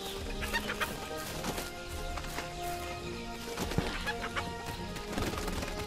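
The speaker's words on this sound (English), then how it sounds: "Ah, those damn chickens." Chickens cluck and squawk in a farmyard scene of a survival game, a busy scatter of short calls over a constant background with a few light knocks and footfalls.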